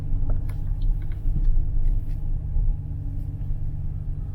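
A low engine rumble from an RV rolling slowly through a pull-through site at Topsail Hill campground in Santa Rosa Beach, Florida, steady and moderately close, with a few faint clicks and knocks over it.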